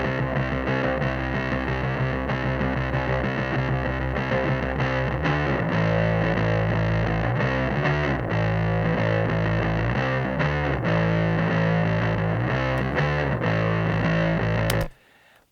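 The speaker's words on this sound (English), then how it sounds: "This is the Polytone with the big muff." A bass guitar played through a Polytone amp with a Big Muff distortion pedal gives a loud, fuzzy, saturated tone in steady riffing phrases that stops abruptly near the end.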